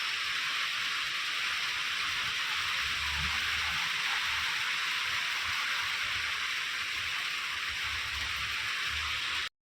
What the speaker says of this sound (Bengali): কেমন বৃষ্টিটা দেখো তো, বৃষ্টি আসতে সময় লাগে না।